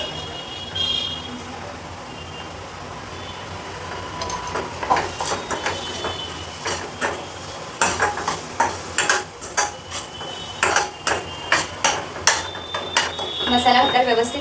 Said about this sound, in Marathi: मसाला तर व्यवस्थित हलवून घ्यायचं